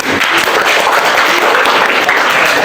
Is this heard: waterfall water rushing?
no